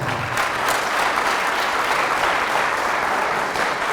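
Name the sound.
audience applause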